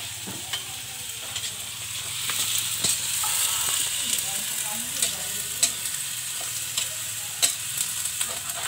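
Duck meat sizzles steadily in a hot pan, with a constant frying hiss and occasional crackling pops and scrapes of stirring.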